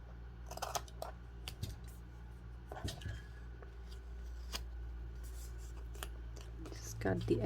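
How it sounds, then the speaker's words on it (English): Scissors snip paper to trim the excess from a book page sleeve pocket, in quiet, sharp cuts spread across the clip over a low background hum. "Just cut the excess off."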